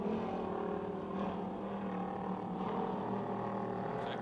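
Hobby stock race cars lap the Pennsylvania Motor Speedway near Pittsburgh at about 86.5 mph, their engines blending into a steady, continuous roaring drone with no voices over it.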